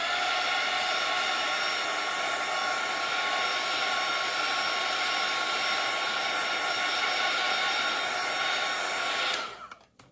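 A hair dryer blows steadily at close range for about nine seconds while drying paint on a painting, a loud even whoosh with a fan whine that cuts off abruptly near the end.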